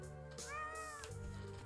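A cat gives a single drawn-out meow with a rising and falling tone, close and clear over a low background hum.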